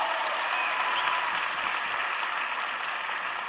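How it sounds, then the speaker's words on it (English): Steady audience applause at a live entrepreneurship festival event, a dense, continuous clapping from a crowd at even loudness throughout, with no voices rising above it. "Let's clap it up for him."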